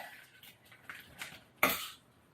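Frozen waffle fries dropped into a seasoned cast-iron skillet in a home kitchen, a few soft clinks and rustles, then one sharp, bright clatter as they land, followed by a fading scrape.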